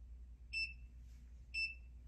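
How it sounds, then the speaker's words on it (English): Two short electronic kitchen-timer beeps, about one second apart, sound clearly over a low steady hum while heat-press work with hard surface transfer paper on glass cups goes on, with no talking. "Now that your timer is up"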